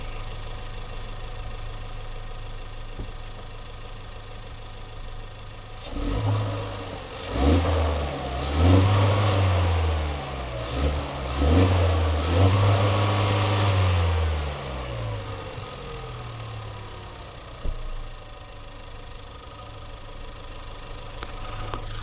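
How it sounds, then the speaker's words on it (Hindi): A Tata Harrier or Safari with the petrol Hyperion engine idles, then revs hard through several rising and falling pulls while driving, the engine note swelling loud before settling back to a low idle, with no one talking. "हाइपीरियन इंजन की आवाज़ कैसी है वो सुनाता हूँ"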